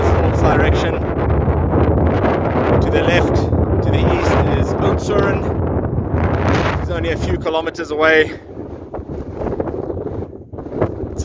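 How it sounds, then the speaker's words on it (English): Strong wind roars and buffets the microphone continuously during a bicycle ride, with someone talking over the gusts. "It's very windy"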